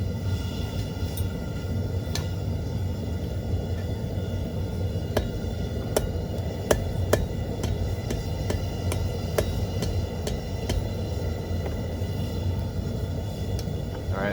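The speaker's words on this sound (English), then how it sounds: "that could stand to use a little hammer blow." A hammer strikes a small metal leaf, giving a series of sharp, scattered light taps over a steady low background rumble, with no speech.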